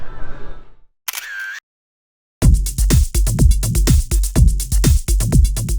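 A single-lens reflex camera fires its shutter in quick repeated bursts, a dozen or so loud, sharp clicks at close range after a brief electronic beep and a moment of silence.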